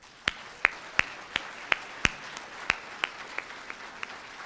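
An audience at the University of Idaho Faculty Excellence Awards 2017 ceremony claps for the award recipients, giving about a dozen sharp, separate handclaps at a fairly even slow pace, each standing out clearly over a quiet hall.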